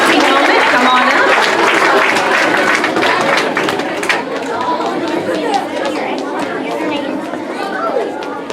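Loud applause for 5th grade award nominees at an elementary school awards ceremony, steady clapping blended with heavy crowd chatter and children's voices throughout.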